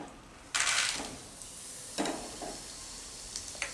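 Peanuts fry in oil in a home kitchen, giving a soft, steady sizzle with a few louder bursts of stirring and spattering, fairly quiet and close, with no talk.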